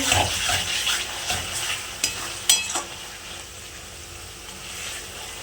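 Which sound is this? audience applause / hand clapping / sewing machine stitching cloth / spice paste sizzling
spice paste sizzling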